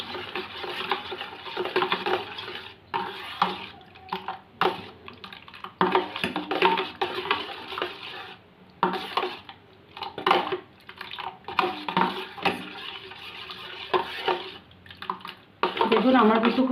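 Curd being stirred and mixed in a bowl for misti doi, with intermittent scraping and clinking of a utensil against the bowl in short bursts, close and moderately loud, while someone talks over it.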